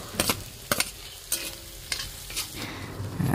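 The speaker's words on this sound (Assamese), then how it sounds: "প্ৰথমতে গৰম তেলত এয়া পিয়াজখিনি দি ল'লে নহৰু আৰু জলকীয়াও দিলে" Oil sizzles steadily in a pan as onions, garlic and chillies fry, while a utensil stirs and scrapes in a few short bursts, ending in louder frying.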